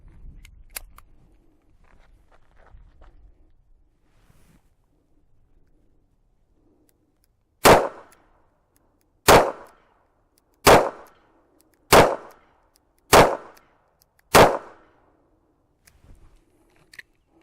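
Six sharp reports from a Kimber K6s revolver firing .38 Special Black Hills rounds, spaced about a second or two apart. Each shot is loud and close with a quick decay, following a quiet lead-in.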